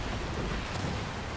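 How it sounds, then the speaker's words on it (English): Steady rain and storm ambience from the video game Pokémon Scarlet, a dense, even hiss of falling rain with low rumble underneath, continuous and without talk. "Oh, it's raining out."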